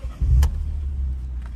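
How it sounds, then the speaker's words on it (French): A Peugeot 208 GTi cranks briefly and its engine catches, then settles into a steady low idle, close by with no talking. "On va démarrer la voiture."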